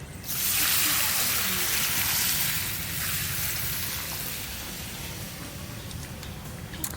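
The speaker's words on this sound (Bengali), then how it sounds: "লাল লাল গরম করা তেলটা দিয়ে দিচ্ছি।" Hot red oil is poured over homemade mango and green jackfruit pickle, giving a loud, close sizzling hiss that swells at once, holds for a couple of seconds, then slowly fades to a softer fizz.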